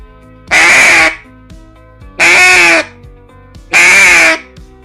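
A duck call blows three loud, raspy quacks spaced evenly apart, each about half a second long, imitating a lone female shoveler, close up and alone.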